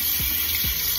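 Makeup brushes are rinsed under running tap water, a steady close rush of water with two soft splashing swishes as the brushes move through the stream.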